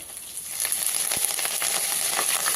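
Garlic, dried red chilli and curry leaves sizzle as a tempering in hot oil, a steady, close crackle that swells slightly partway through, with no talk.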